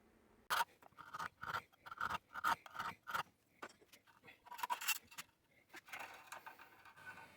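Hand filing on the underside of a bandsaw blade end, shaping it to a taper for a lap joint: a series of short, scratchy rasping strokes in an uneven rhythm, close and fairly quiet, with brief pauses between passes.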